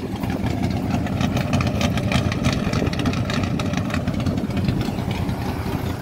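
A 1964 Ford Fairlane's engine runs steadily at idle, a loud, close, rough low rumble with a pulsing, slightly knocking beat throughout.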